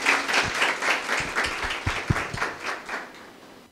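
A church congregation applauds after a sermon, a short burst of dense clapping that swells and then thins out toward the end.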